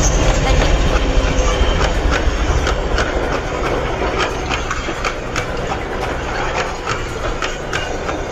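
A train on the Shakuntala railway in Maharashtra rumbles steadily along the track, its wheels clacking in a regular rhythm over a loud, continuous engine roar.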